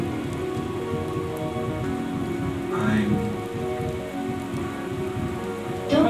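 In a stage play, a rain sound effect keeps up a steady, close patter of drops on a surface, running unbroken for several seconds with a faint low rumble beneath.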